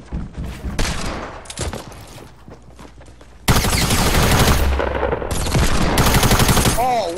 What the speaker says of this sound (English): I shot him in the fucking head.